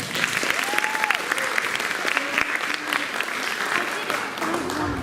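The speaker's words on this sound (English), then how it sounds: "All right, round of applause for 8th graders." An audience applauds 8th graders at a live film festival event, a dense, steady wash of many hands clapping throughout, with a voice briefly sounding over it.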